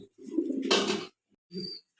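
Soft, low cooing of young pigeons close by, one longer throaty call followed by a shorter one after a brief pause.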